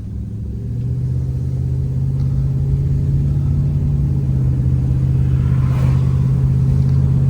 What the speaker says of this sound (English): It's been so long since I've driven this truck.